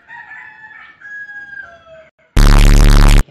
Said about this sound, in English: please ignore the chickens in the background because they're so annoying